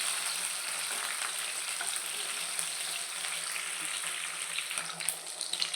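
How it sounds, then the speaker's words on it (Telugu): Dried prawns fry in hot oil with a dense, even hiss and crackle that carries on steadily, close up, with no voices. "ఆయిల్ బాగా వేడెక్కిన తర్వాత అలా ఎండ్రాయిలు వేసుకోవాలి. ఎండ్రాయిలు బాగా ఫ్రై అవ్వాలండి."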